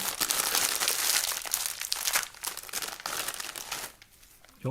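Close, loud crinkling of plastic tea bag packaging being handled and torn open, in irregular rustling bursts with brief pauses.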